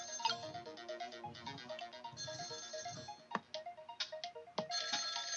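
Electronic telephone ringtone in the Ghost Trick video game, repeating in quick pulsing rings at a low, steady level with no voices.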